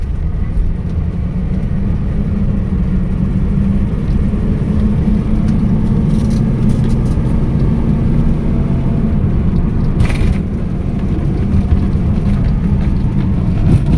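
A Mercedes-Benz W123 280S fitted with a Toyota 2JZ engine and automatic gearbox driving on the road, heard from inside as a steady, loud low engine drone and road hum, with no talking.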